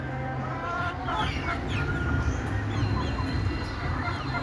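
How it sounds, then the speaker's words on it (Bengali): Large laying hens of a local free-range breed cluck in a steady, overlapping chatter from several birds close by, with a continuous yard noise beneath them. "এগুলো সবগুলা বড় মুরগি, এগুলো সবগুলো ডিম দেয়"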